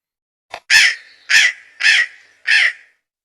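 A crow caws four times in a steady, evenly spaced series, loud and close, after a short opening call, with no voices.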